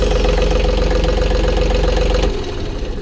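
A John Deere 4105 tractor engine idles close by with a steady, rapid low putter and the chuff of a leaking exhaust, then drops to a rougher, quieter tone near the end.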